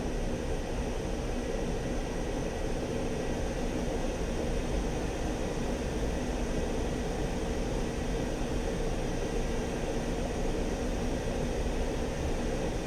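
An aircraft taxiing toward the runway in Digital Combat Simulator: a steady, even hum of engine and airflow noise with no changes or breaks, fairly quiet and constant throughout.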